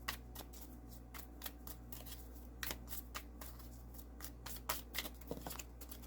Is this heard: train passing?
no